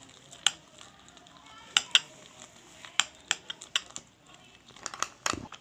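A utensil stirs melted chocolate into whipped cream in a bowl, producing scattered sharp clinks and taps against the dish, irregular and close, in an otherwise quiet room.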